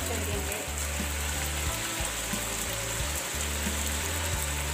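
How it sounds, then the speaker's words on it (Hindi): Water poured into chicken cooking in a pot for white pulao, giving a steady loud sizzle and bubbling hiss close up with a low kitchen hum beneath, no talk. "इसमें पानी शामिल कर देंगे।"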